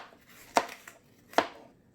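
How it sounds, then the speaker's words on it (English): Onions and pepper being chopped with a knife on a board for homemade chicken and potatoes, two crisp, close cuts spaced almost a second apart in a quiet kitchen. "all I need to do is just chop it up into reasonable sizes"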